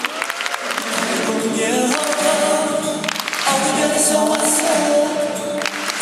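A large crowd claps and cheers continuously at a military culture night, loud and dense, with shouts mixed into the sustained applause.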